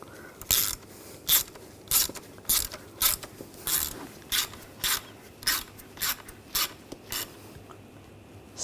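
A ratchet tightens bolts on a pipe during an ignition coil replacement on a 2007-2013 BMW X5 3.0L inline-six, giving about a dozen and a half short, close, even clicking bursts with brief pauses between them and no talking.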